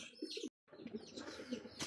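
A Pakistani Teddy pigeon gives soft, low cooing, faint and close, broken by a brief gap, with light rustling around it.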